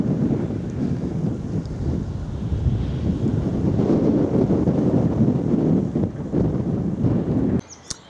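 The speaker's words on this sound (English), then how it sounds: "the wind's picking up again as I approach Clavering" Strong wind roars steadily across the microphone on a countryside walk near Clavering, a constant low buffeting rumble that cuts off abruptly near the end.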